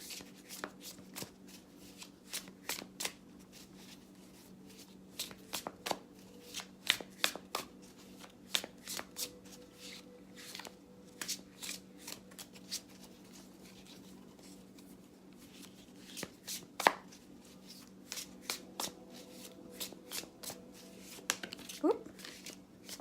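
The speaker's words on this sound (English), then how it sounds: "I'm just going to continue to shuffle for a minute." Tarot cards riffled and shuffled repeatedly, crisp flicks and snaps in quick irregular bursts close by, with quiet handling between them.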